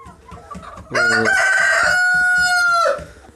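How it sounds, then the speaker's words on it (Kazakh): A loud rooster crows once nearby, a long drawn-out call, with Adler breed hens clucking softly before and after it. "Мына жақта артық қораздар"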